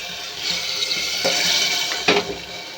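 Water poured into a pan of simmering fish curry masala, a steady broadband splash and rush of liquid lasting the whole moment, loud and close with a couple of sharper sloshes near the end.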